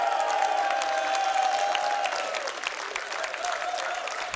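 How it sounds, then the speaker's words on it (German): Audience applause at a live music show in a sports arena in Speyer, dense steady clapping from a large crowd with a sustained tone ringing underneath, fading slightly then continuing. "Ein Applaus auf euch."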